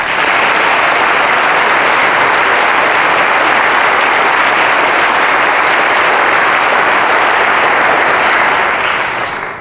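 Sustained, loud applause from a press-conference audience honouring the Bennett College Choir, steady dense clapping filling nearly ten seconds before tapering slightly at the end.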